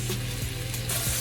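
Mushrooms frying in butter in a pan give a dense, steady sizzle with a few faint scraping clicks, loud and close with no voices.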